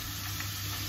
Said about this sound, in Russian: я уже жарю, девчонки, первую партию своей лапши